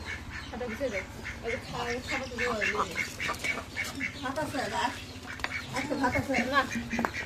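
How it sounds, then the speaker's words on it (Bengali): Ducks quack repeatedly in a busy, overlapping flock at close range, the calls coming in quick bursts throughout, with people talking nearby. "ওই যে হাঁসগুলো যে খড়ের ভিতরে ঢুকবো"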